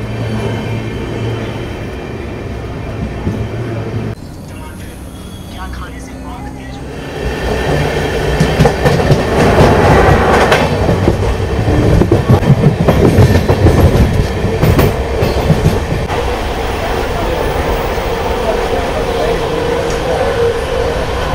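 Saptagiri Express LHB passenger train rolling slowly toward Renigunta between Chennai and Tirupati, with a steady low rumble that swells louder midway into rhythmic clatter of wheels on rail joints, heard from onboard with no voices.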